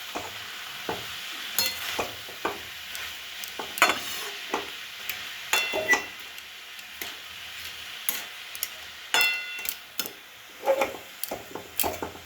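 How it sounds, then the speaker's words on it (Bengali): Banana stem and gobindobhog rice stirred in a pan: sharp, intermittent spatula knocks and scrapes over a quiet sizzle, close by, in irregular bursts with short pauses, no voices. "নাড়বো, একটু নেড়ে চাপা দিয়ে রেখে দেবো"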